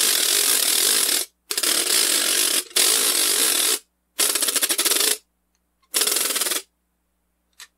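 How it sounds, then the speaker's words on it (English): Orchestral ratchet with a metal frame and wooden flaps, cranked in several bursts of dense, rapid clacking, loud and close, separated by short silences. "That's a ratchet."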